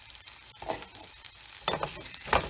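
Onion and tomato sautéing in a pan for Iyer-style ven pongal: scattered soft stirring scrapes and light sizzle, with a few louder stirring strokes toward the end, no talk.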